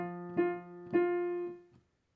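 A piano plays a short passage from Jingle Bells with both hands together: a held low note under two struck higher notes, each attack clear, ringing and decaying cleanly near the microphone with no talking.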